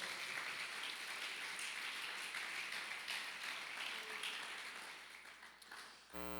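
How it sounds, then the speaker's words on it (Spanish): Church congregation applauding to the Lord, a continuous wash of moderately distant clapping that slowly fades, ending with a brief tonal sound. "Dale un aplauso al Señor,"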